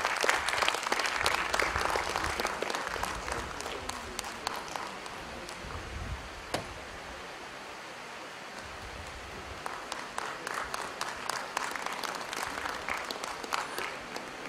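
An audience at a career counselling session claps in a sustained round of applause that thins briefly in the middle, then swells again, moderately loud and without talk.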